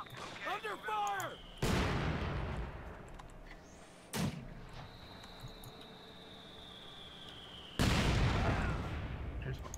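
Gunfire and artillery blasts in Company of Heroes 2, with several loud, sharp booms standing apart from a steady battle din, plus a faint whistle overhead.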